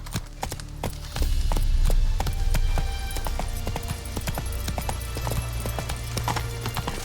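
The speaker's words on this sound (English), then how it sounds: "Whoa there, Roach" A horse gallops in The Witcher 3 video game, its hooves beating a fast, steady clip-clop rhythm up close over a low game ambience that swells slightly after the first second.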